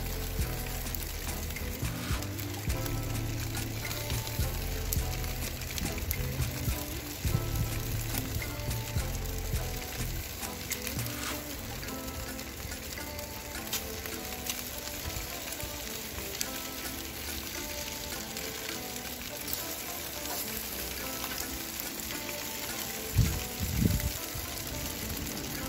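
Pork spare ribs brushed with barbecue sauce sizzle steadily on a charcoal grill, with a constant close frying hiss and crackle that runs without a break, plus a couple of duller knocks near the end.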